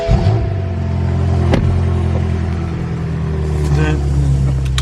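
An 800-horsepower BMW F10 M5 idles with a deep, loud, lumpy rumble right after starting, its engine note rising and settling slightly, with a sharp click and people talking nearby.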